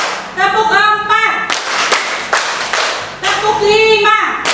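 An elementary school class claps hands together in a counted rhythm, a few sharp, even claps in a row, with a teacher's voice speaking before and after.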